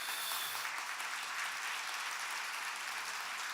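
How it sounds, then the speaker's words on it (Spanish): A church congregation claps steadily, a dense, even applause that continues for the whole stretch without voices. "Alábalo con todo tu corazón y dale un aplauso."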